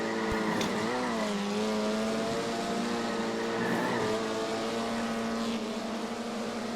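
Race cars roar around the track in the iRacing Arcade video game, a steady loud engine drone with rising and falling pitch as cars shift and pass, continuous throughout without talk.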